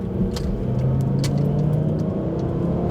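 A car engine hums and rises as the vehicle accelerates to overtake a slow driver, heard from inside the cabin as a steady, close drone.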